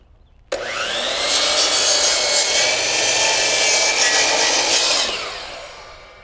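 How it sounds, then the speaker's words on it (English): A power saw whines loudly through lumber for several seconds in one continuous cut, starting abruptly and winding down at the end. "Step 2, cut wood."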